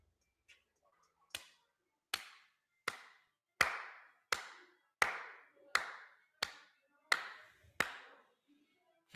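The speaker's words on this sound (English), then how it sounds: "If everybody could just please get into a single file line and clap it up." About a dozen sharp, separate claps ring out one at a time at a slow, even pace, each loud and crisp with a short decay, with near silence between them.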